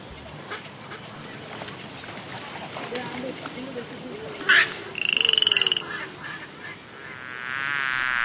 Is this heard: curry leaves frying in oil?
no